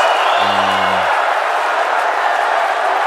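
A crowd cheers and applauds in a broad, steady wash of noise at an event, with a brief low hum near the start.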